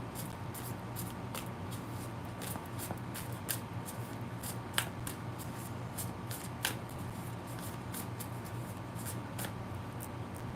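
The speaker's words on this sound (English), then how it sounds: "So let's start the shuffle." Tarot cards are shuffled close by in a steady, continuous papery rustle with frequent small flicks and snaps, alone and without talk.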